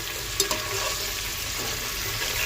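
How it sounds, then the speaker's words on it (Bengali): Chicken pieces fry in hot oil, a dense, even sizzle with a couple of small clicks near the start. "চিকেনটা একটু ভেজে নিচ্ছি"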